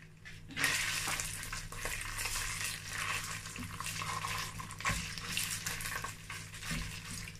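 Tomato paste and onion powder fry in oil in a pan, giving a continuous close sizzle with occasional stirring scrapes.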